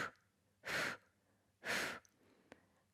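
Two long, breathy exhales sound close and clear during a beginner Pilates exercise, each lasting about a third of a second with quiet pauses between, followed by a faint short breath.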